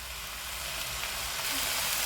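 Goat head pieces frying in a pan, a steady soft sizzle of hot oil that stays even and close throughout, with no talking.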